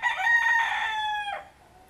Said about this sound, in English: Most roosters like it when I'm out here filming. They gotta holler a lot.